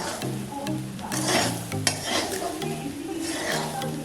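Semolina (suji) dry-frying in a pan, with repeated scraping and stirring strokes over a steady low crackle, close and moderately loud, with a tonal hum running underneath.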